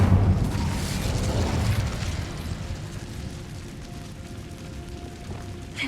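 Casting the Incendio fire spell in Hogwarts Legacy releases a loud, rumbling burst of flame that hits hardest at the start and then dies down into a softer crackling roar.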